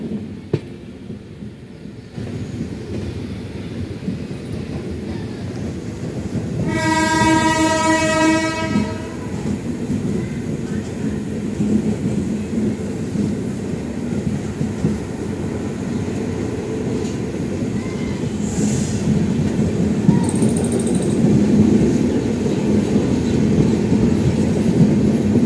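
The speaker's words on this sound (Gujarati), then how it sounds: "વડોદરા ઇન્ટરસિટી સ્પીડ પકડી રહી છે." A 22960 Jamnagar–Vadodara electric intercity train runs and picks up speed, a loud steady rumble of wheels on rails with a blaring horn blast early on and a brief high whistle later.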